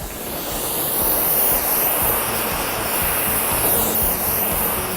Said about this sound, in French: je la chauffe pour pouvoir permettre d'arriver à une certaine température pour que la baguette de soudure puisse fondre